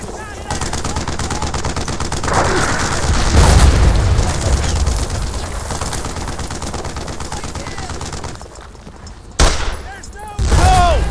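Gunfire in the World War II shooter Brothers in Arms: Earned in Blood, dense rapid bursts of rifle and machine-gun fire with booming shots, loud and sustained, with shouted voices mixed in and a sharp blast near the end.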